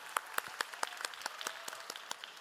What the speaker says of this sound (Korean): 다시 한번 박수로 함께하겠습니다